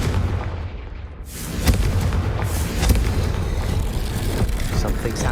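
The Confringo fire spell from Hogwarts Legacy goes off as a series of booming explosive blasts. The dense, rumbling bursts rise and fall in loudness, with a sharp burst near the start and crackling debris throughout.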